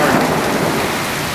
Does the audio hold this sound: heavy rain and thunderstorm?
yes